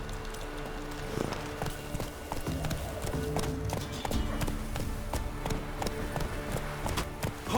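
A horse gallops in The Witcher 3 video game with steady, rhythmic hoofbeats that keep up a brisk clip-clop throughout, layered over low in-game ambience.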